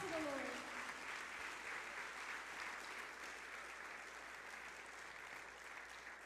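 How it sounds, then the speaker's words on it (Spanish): Church congregation applauding the Lord during a Spanish-language sermon, a broad steady wash of clapping that holds for several seconds after a brief voice at the start, slowly easing off. "Dale fuerte ese aplauso al Señor."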